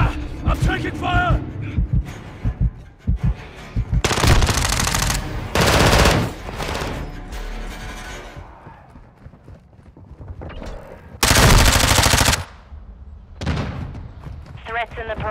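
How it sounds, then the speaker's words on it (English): Machine gun fire in the Call of Duty video game comes in loud, dense bursts, two heavy volleys plus scattered shots, mixed with in-game voice callouts and battle noise. "I'm taking fire!"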